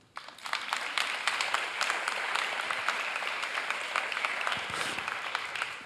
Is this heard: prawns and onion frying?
no